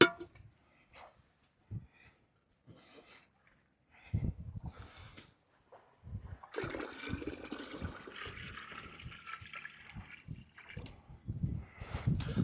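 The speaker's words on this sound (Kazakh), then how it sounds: "Қазір осыны исаф фильтрмен тазалайтын боламыз." Lake Kapchagay water running through an ISSAF water filter, heard first as a few faint drips and handling noises, then as a sustained, splashy flow of water trickling through.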